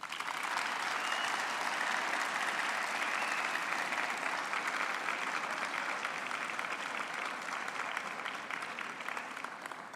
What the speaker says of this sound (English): I would like to ask the graduates to applaud their families, friends, and spouses for their support